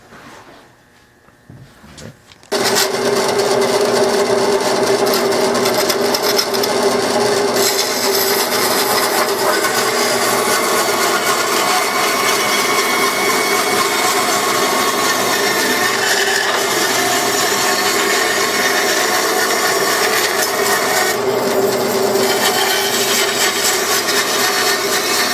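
A band saw cuts a wooden piece for a stepladder chair, the motor starting abruptly after a quiet moment and then running as a loud, steady whine with grinding through the wood, alone and unbroken for over twenty seconds.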